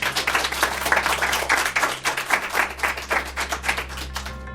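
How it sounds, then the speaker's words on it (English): Studio audience applauding a guest on a mindreading podcast episode, a dense steady patter of many hands clapping throughout, moderately near and loud, with no talk over it. "Maybe let's give James a round of applause."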